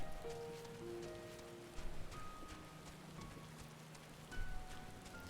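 Soft, steady rain falls in Final Fantasy XIV, a faint continuous patter with light music tones drifting above it.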